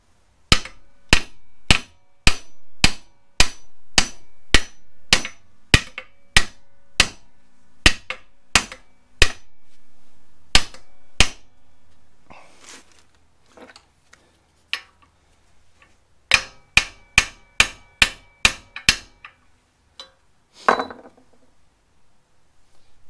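A hammer drives a metal drift against the upper ball joint of a 1993 Ford F150 4x4. Sharp, ringing metallic blows fall in a steady rhythm of about a dozen strikes, then a short pause with faint clinks, then another quick burst of blows.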